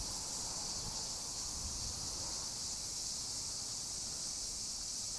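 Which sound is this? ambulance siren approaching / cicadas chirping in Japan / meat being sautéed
cicadas chirping in Japan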